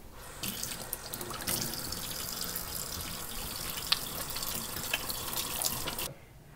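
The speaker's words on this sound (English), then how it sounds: "Make sure to wash your workspaces and your hands before getting started." A kitchen tap runs into a sink while hands are washed, a steady close splashing stream that stops abruptly near the end.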